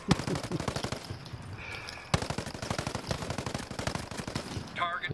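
Rapid bursts of automatic gunfire in a Call of Duty match, dense repeated shots running through most of the stretch with a brief pause near the middle, loud and close, with faint game sounds near the end.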